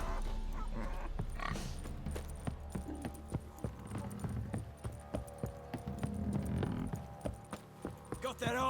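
Horse hooves clip-clop in a steady trotting rhythm in The Witcher 3 video game, mixed with game ambience and a faint tonal background.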